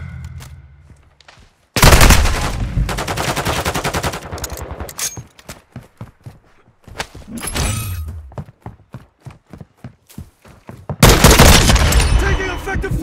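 Call of Duty multiplayer gunfire on a Hardpoint match, loud automatic bursts and rapid single shots in dense stretches with short gaps, booming impacts mixed in, and game voice callouts heard between the shooting.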